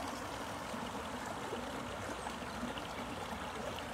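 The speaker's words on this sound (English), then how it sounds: "It is always wonderful to find flowing water." Continuous flowing stream water, a soft steady babble and trickle close by, with no voices.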